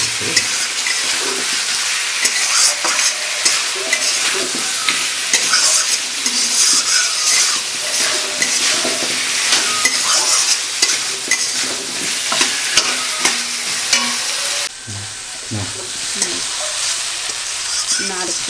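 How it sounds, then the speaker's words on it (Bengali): Potato, pumpkin and carrot fry with coconut in a pan, a loud continuous sizzle broken by frequent stirring scrapes and spatula knocks, with a quieter, duller stretch near the end. "আলু কুমড়ো আর গাজর আমি ভেজে নিচ্ছি"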